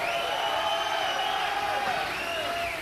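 Crowd at a 2004 World Strongman Cup event in Austria cheering on an Austrian strongman athlete, a steady, distant roar of voices with whoops, sustained evenly throughout.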